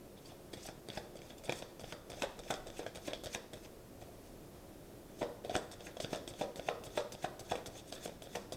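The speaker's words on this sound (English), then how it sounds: "You will see I am shuffling." A deck of tarot cards being shuffled close up, with rapid rustling riffles and soft slaps in two bursts separated by a brief lull, quiet and without talking.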